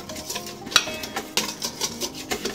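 Rum extract being stirred into brownie batter in a bowl, heard as a steady run of close, rhythmic scraping and tapping strokes with occasional sharper clinks. No one talks.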